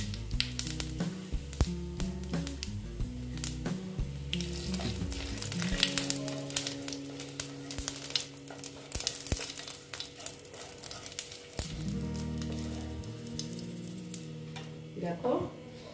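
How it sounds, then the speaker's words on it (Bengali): Cumin seeds tempering in hot oil for a pomfret curry give off a steady, close sizzle with scattered crackles throughout, over a low tonal background. "এবার আমি ওই তেলেতে তেল দিয়ে দিচ্ছি। ফোড়নে দিয়ে দিলাম"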